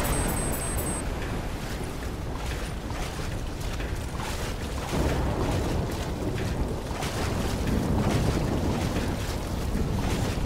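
Waves slosh and break against a boat in Call of Duty: Black Ops III, a continuous rushing wash of water and wind with surges that swell louder toward the end.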